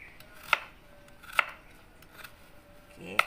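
Fresh turmeric is chopped with a knife for rendang: three sharp, close knife strikes on a board, spaced about a second apart, over quiet room tone.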